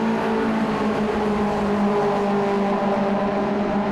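MG Trophy race cars at Donington Park, engines roaring loud and close in a steady sustained drone with strong harmonic tones, several cars running together through a chicane with no talk over them.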